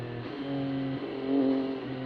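A 2023 MV Agusta F3RR motorcycle engine revs, holding a steady, close mechanical drone that swells briefly in pitch and loudness before settling, with no voices.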